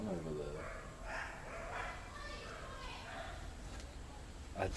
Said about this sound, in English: Are dogs fighting each other?